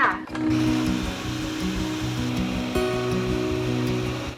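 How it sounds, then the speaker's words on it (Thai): A blender whirs steadily while mixing keto Basque cheesecake batter with eggs, a loud, even motor drone with a churning hum that shifts pitch slightly midway and cuts off abruptly at the end. "แล้วเราก็ปั่นต่อเลยค่ะ"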